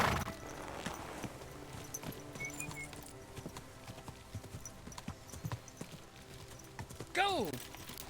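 Horse hooves clip-clop at a steady rhythm in the video game Kingdom Come: Deliverance II, close and clear, with a horse whinnying loudly near the end.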